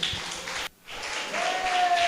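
Church congregation applauding strongly during a Portuguese-language service, a bright, dense wash of clapping that breaks off briefly and then resumes louder, with a faint tone underneath.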